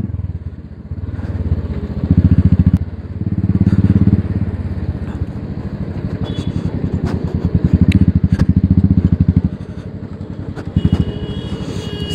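A motorcycle engine runs steadily while riding on the road through Nerul, with revs rising and falling in surges and some wind and road rumble; no talk is heard.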